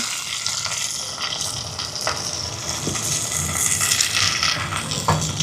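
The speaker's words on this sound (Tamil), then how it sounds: "இப்போ இதெல்லாம் வதங்கட்டுக்கும்." Cumin, fenugreek, whole garlic, green chili and onion sautéing in a pan for prawn egg curry, a steady broad sizzle with faint scraping stirs, close and fairly loud throughout, no voices.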